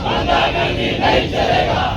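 A large crowd at a BJP protest in Bidar, Karnataka chants slogans in loud, rhythmic unison, voices rising and falling in steady waves of shouting.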